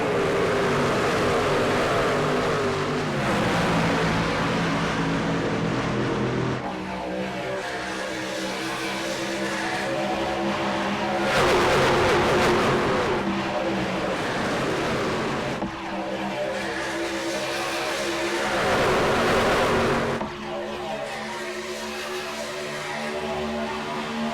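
Race trucks of the AREA Truck Series roaring around the Auto Club track in a 95-lap race, a continuous loud engine drone with repeated rising and falling pitch sweeps as trucks pass, no voices.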